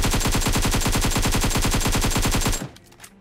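Automatic gunfire in the mobile battle royale game BGMI, a loud rapid burst of evenly spaced shots for about two and a half seconds, then cutting off into a brief fading tail.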